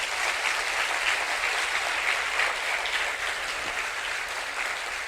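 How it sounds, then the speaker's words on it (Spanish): Congregation applause at a Spanish-language Christian church service, a steady, dense wash of clapping that holds evenly for several seconds without talk. "Dale un aplauso a Él."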